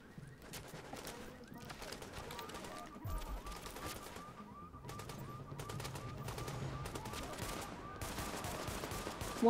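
Pistol fire in the video game The Division, a string of quiet, sharp shots popping in irregular bursts, with background game sounds and someone talking over them.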